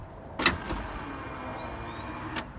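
A 1974 Cadillac Fleetwood Brougham boot lid gives a sharp mechanical clunk, then a quieter motor whir as the power pull-down draws it shut, ending with a second faint click, close by with no talk.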